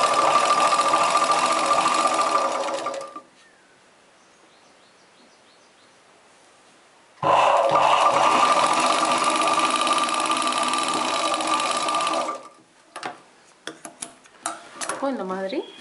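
A sewing machine stitches the seam of a chudidar top, with two long steady runs separated by a few seconds of quiet, then a handful of short knocks and clicks.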